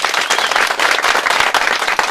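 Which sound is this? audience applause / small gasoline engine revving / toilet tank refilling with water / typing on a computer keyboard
audience applause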